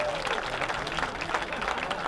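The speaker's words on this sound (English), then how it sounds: "Give him a round of applause" Steady crowd applause and clapping fill the stands at a college football game, a dense wash of hands with a murmur of voices underneath.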